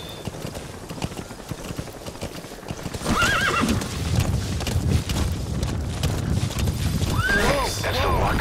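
A horse in the game Metal Gear Solid 5 clip-clops along at a gallop, its hoofbeats steady and close, with two rising whinnies breaking out over the running; a voice comes and goes around it.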